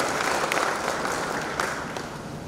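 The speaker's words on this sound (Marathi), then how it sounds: "टाळ्या वाजवून या माणसाचं कौतुक करतो" Audience at a 2022 farming award ceremony in Lasur Station applauding steadily and loudly throughout, a dense continuous wash of many hands clapping with no speech over it.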